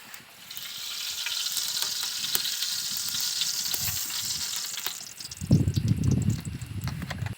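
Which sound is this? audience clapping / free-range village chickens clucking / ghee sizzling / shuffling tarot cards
ghee sizzling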